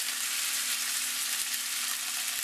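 Stuffed rolled meat pieces held together with toothpicks browning in a hot pan, giving a steady broadband sizzle that runs without a break, with a faint low hum and an occasional soft tap.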